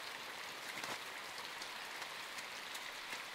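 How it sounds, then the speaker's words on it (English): Steady rain pattering in the side-scrolling game Inside, a dense, even hiss of drops with occasional brighter splashes, continuous and fairly close throughout. "The rain is just as awesome as it was in Limbo"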